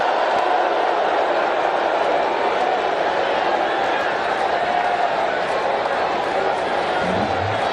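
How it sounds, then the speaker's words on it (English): Large cricket stadium crowd roaring and cheering during the tense final overs of the Asia Cup final in Dubai, a dense, sustained wall of voices with no breaks. "Outstanding crowd here at this stadium today, and they're very vocal right now"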